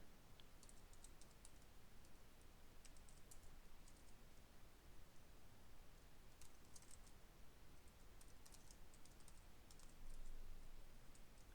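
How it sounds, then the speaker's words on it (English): Quick typing on a computer keyboard, a steady stream of soft, close key clicks with small bursts and pauses, quiet and alone without any voices. "I'll type it in pretty quickly"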